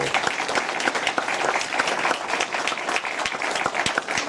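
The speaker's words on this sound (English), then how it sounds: "A round of applause for Richard as well." A debate audience at an EU referendum event applauds in a dense, sustained burst of many hands clapping together, fairly loud and steady from start to finish.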